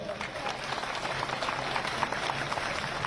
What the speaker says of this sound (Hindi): तालियां तो थोड़ी और बननी चाहिए।